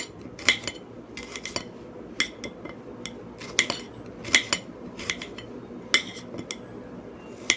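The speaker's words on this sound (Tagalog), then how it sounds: "I-slice naman natin yung ating garlic" A knife slicing garlic on a board, a run of crisp, irregular clicks and taps from close up, with faint background noise and no talking.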